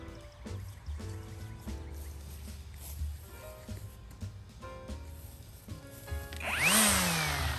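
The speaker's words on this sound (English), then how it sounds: "I'm gonna show you how I hold the trimmer." A string trimmer edging a garden bed whines in uneven revving bursts, close and moderate, rising to a sharp high rev near the end.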